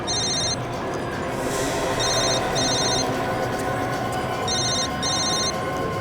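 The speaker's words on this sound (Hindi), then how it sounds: "साहब ये तो महेश का ही फोन है साहब" A telephone rings in repeated electronic bursts, a pair of trilling rings, a pause, then another pair, loud and close over a dense background hum, with no one speaking.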